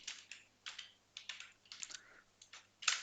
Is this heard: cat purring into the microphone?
no